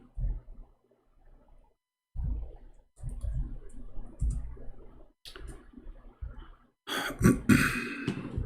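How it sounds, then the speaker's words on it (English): Irregular clicking keystrokes on a computer keyboard with an unfamiliar key layout, close and fairly quiet, with soft thumps and a louder burst of clattering near the end; no talking. "I'm just trying to learn how to use this keyboard because it have different keys location"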